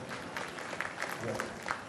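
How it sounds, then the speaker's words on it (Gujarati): An audience at a Gujarati community gathering applauds a guest. The clapping is faint and somewhat distant, carried on steadily for about two seconds. "એમને તાળીઓથી એક વખત વધાવી."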